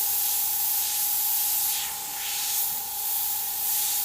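An airbrush spraying paint in short down strokes to outline skull teeth, giving a loud, steady hiss that swells and dips slightly, with no voice.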